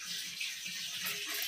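Water sloshes and trickles in a vessel as mahua flowers are washed in a village kitchen, a close, continuous splashing with no voices.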